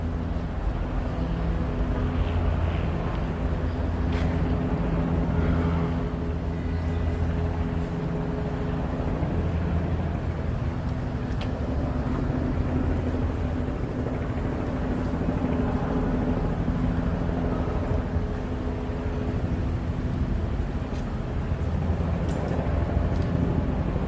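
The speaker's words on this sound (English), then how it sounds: "there's approximately 4 to 5 helicopters right above" Several helicopters hover right above a Manhattan street in Inwood at dawn, their rotors making a steady, continuous low drone that holds evenly throughout without clear breaks.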